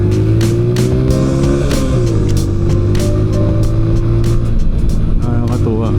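A Vespa scooter engine hums steadily while riding in city traffic, a close, continuous buzzing drone with shifting pitch as it accelerates and eases off, along with faint road and wind noise.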